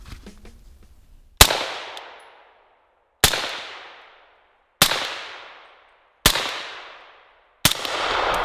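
Five supersonic gunshots through a Catawba Valley Armory Jackal suppressor, evenly spaced sharp cracks, each trailing off in a short ringing decay, loud and close with silence between shots.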